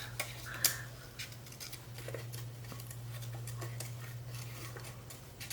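Scissors fussy cutting around a paper image for a journal page: quiet, irregular snips and paper rustles over a steady low hum, close and alone with no talk.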